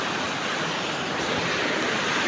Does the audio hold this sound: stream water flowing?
yes